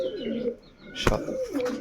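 A Kagzi pigeon hen coos close by in two short throaty phrases, broken by a brief flutter or knock in the middle.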